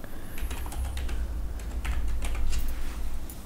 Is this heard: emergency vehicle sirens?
no